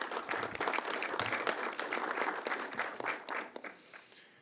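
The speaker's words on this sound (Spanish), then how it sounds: "Un aplauso, por favor." An audience at a legislative forum on aviation policy breaks into steady, dense applause that holds for several seconds, then thins out and fades.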